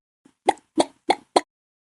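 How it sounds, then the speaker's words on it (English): Four sharp hand claps in an even, steady rhythm, close and clear with no other sound, as a Chicken Dance step. "clap your hands 4 times like this"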